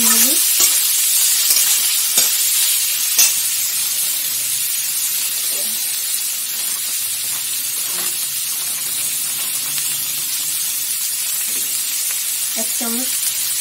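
Chopped chicken meat fries in a pan with a loud, hissing sizzle. A few scattered spoon clicks sound over it, and brief bits of voice come at the start and end.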